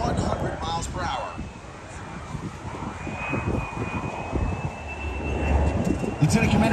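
A Navy jet with a Pratt & Whitney engine flies slowly at an air show, its engine roaring steadily and loud throughout, with a faint whine gliding across the roar and crowd or announcer voices underneath.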